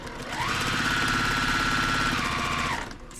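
A sewing machine with a quarter-inch foot stitches a quilt block in one steady, close run, its motor whirring up, holding a rapid even needle rhythm for about two seconds, then winding down.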